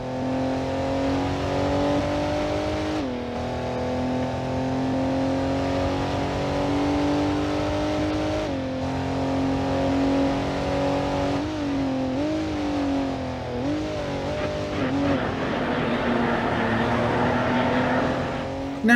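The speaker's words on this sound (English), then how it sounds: "Some of the engines I think should sound fantastic considering it's Alfa Romeo" Alfa Romeo car engines in the PS2 racing game Alfa Romeo Racing Italiano rev and pull steadily, with pitch rising and dropping between gear changes, loud and continuous with no talk.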